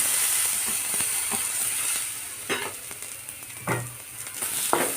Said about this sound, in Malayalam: ഇനി ഇതിലേക്ക് മാങ്ങ ഇട്ട് കൊടുക്കാം